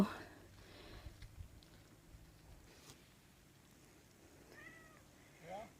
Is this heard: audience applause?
no